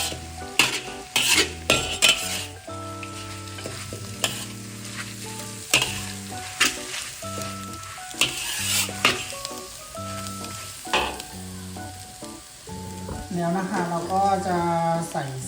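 Pork stir-fries for Thai pad see ew, a loud crackling sizzle with repeated metallic scrapes and clanks of a spatula in the pan, set under steady background music.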